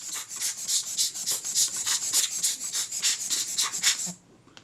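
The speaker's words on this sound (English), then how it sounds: "First I'll just blow any dust out that's loose." Loose dust is blown out of a Kodak Retina II type 014 camera with a series of short, rhythmic puffs of air, roughly a dozen close, breathy bursts in quick succession that stop abruptly before a brief quiet.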